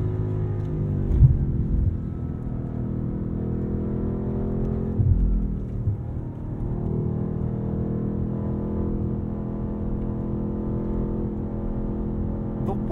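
A 2023 BMW M8 Competition Coupe's engine drones steadily from inside the cabin, with rev rises and brief dips around gear changes made in manual mode on the paddles, a continuous loud rumble throughout.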